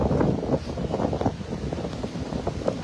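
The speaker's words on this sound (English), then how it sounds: "Wow, it's so windy." Strong wind gusts along a rainy New York City street, rumbling and buffeting the microphone in uneven surges, loud and close with no talking.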